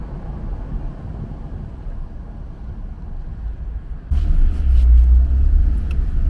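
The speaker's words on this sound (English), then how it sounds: "Car coming." A car rolls along a wet road near the Nada Tunnel at Red River Gorge, a steady low rumble that grows abruptly louder and heavier as it passes close by, with no talk.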